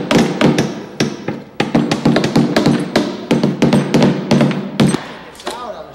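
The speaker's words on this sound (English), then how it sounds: "We put the dowel rods in so that we could pound them evenly to apply uniform pressure to try and release the bottom." Dowel rods are hammered evenly to pop a vacuum-bagged fiberglass composite shell free of its mold, giving a steady series of sharp, close wooden taps and thuds in quick irregular rhythm.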